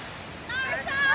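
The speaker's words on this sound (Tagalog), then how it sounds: "Here it is. The Flood Falls." Flood Falls waterfall near Hope, Canada, a steady broadband rush of falling water, fairly loud and continuous over a short moment, with faint tonal sounds rising over it.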